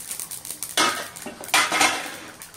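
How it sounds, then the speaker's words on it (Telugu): Gentle stirring of korramenu fish pieces for a fish pickle in a pan, heard as two soft scraping, clattering bursts with quiet gaps, close and without talk. "ముక్కలు అటు ఇటు చెదరకుండా స్లోగా కలుపుకోవాలండి, విరిగిపోకుండా."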